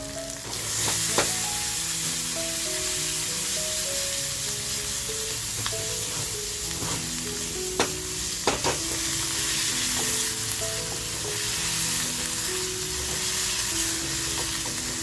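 Masala and tomato fry in a pan, a steady moderate sizzle with occasional stirring scrapes and light clicks of a utensil, continuous throughout with no talk.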